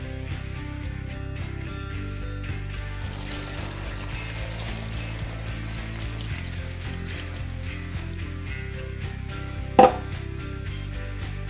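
Water poured onto flour in a bowl for marinating mushrooms, a faint pour and trickle over a steady low background hum, no talk.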